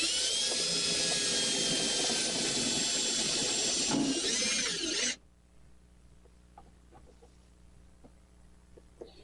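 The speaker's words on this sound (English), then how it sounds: "I'm going to drill another hole and put another screw in." A loud, steady high-pitched drill whine runs for about five seconds, then cuts off abruptly, leaving quiet room noise with faint clicks.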